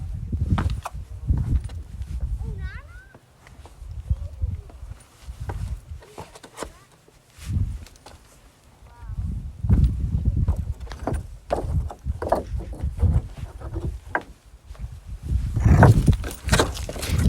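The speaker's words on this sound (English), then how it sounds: "Boulders knocking against each other as I'm walking on top of them." Footsteps across a field of loose boulders, rocks clacking and knocking against each other underfoot in an irregular series of sharp, close knocks at varying loudness, with no talking.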